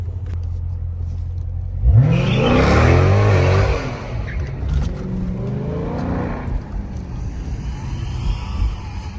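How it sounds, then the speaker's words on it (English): A widebody Dodge Charger Hellcat Redeye on a late-night street in Atlanta roars as its engine revs hard and accelerates, a loud close-up rising pull that fades into lower rumbling as the car moves off. "We got the Widebody Charger Redeye."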